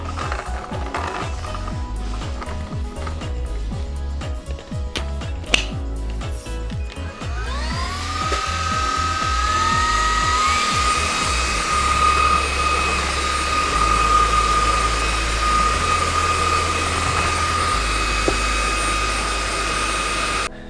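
Hitz HB-5677 cordless vacuum cleaner with a 20V brushless motor, fitted with its floor brush; after some handling clicks the motor spins up midway into a loud, steady, high-pitched whine that holds to the end, with no talking.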